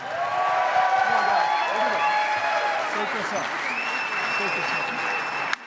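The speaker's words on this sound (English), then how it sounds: "Let's give them one more big round of applause." A conference audience at the EO Imagine 2022 Alchemy event gives a big round of applause for the speakers, sustained loud clapping with cheers and chatter layered throughout, tapering slightly near the end.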